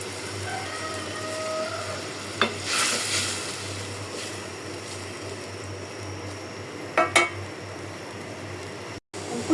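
Small fish frying in a pan of cooked spice paste for a Bengali Malabar spinach stem dish, giving a steady moderate sizzle with a couple of sharp stirring clacks and no speech.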